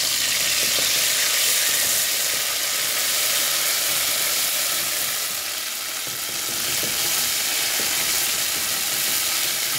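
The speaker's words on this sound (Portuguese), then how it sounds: "Eu vou refogar o alho." Garlic with salt and seasoning sautés in a hot pan, giving a steady, dense sizzle and crackle that runs unbroken from start to finish, close and fairly loud.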